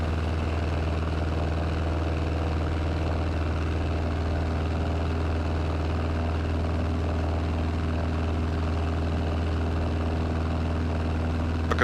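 A small airplane flies over Ishawooa Pass out of Cody in Wyoming's Yellowstone country, heard from inside the cabin as a steady, loud engine-and-propeller drone that never lets up.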